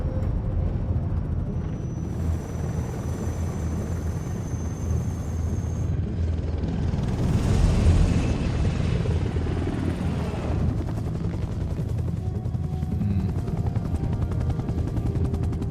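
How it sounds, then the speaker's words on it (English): Steady, loud helicopter rotor drone in a Metal Gear Solid game fills the whole stretch, with a broad swell in the middle and a thin high whine running on top. "I don't know if even 4 helicopters can hold up a big ass tank like that"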